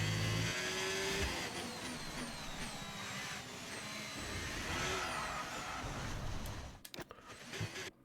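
F1 car engine in F1 25, a high, continuous whine that climbs and shifts through gears with rising pitch sweeps, steady and loud before cutting out near the end into brief clunks.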